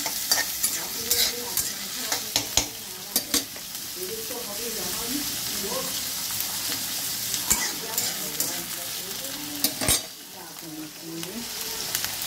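Fish frying hard on high heat, a loud continuous sizzle close up with frequent sharp scrapes and knocks of a spatula stirring the pan.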